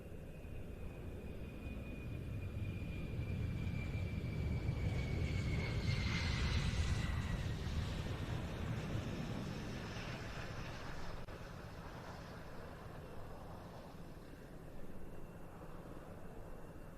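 US Air Force F-15E Strike Eagle jets of the 48th Fighter Wing from Lakenheath arriving at an airshow, a distant jet roar that swells and fades with a falling engine whine.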